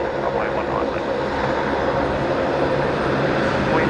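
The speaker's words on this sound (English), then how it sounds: "here comes the Link Airways. They're coming in on Bay 50" A Link Airways aircraft taxis onto its bay at Brisbane Airport at night, its engine drone loud and continuous and close by, with no break.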